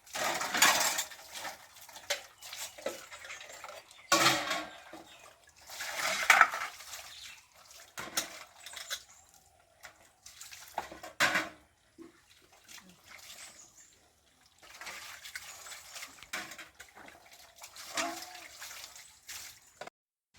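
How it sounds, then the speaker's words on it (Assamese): Dishes being washed under running water at a home sink, with intermittent splashing bursts and clinks of utensils, stopping and starting across the stretch. "এইফালে মোৰ বাচন ধোৱা হৈ গ'ল"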